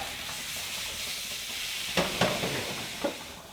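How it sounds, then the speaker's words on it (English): Steak browning in a hot pan for pepper steak, a steady loud sizzle with a few sharp scraping stirs as the pieces are moved around, no talking. "We're going to dump that right in there, and we're going to start browning our steak up."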